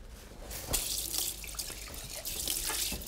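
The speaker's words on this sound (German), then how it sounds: "Ein bisschen warmes Wasser bitte. Warmes Wasser." Warm water runs steadily from a kitchen tap, a continuous close splashing hiss that fills the whole stretch without any talking.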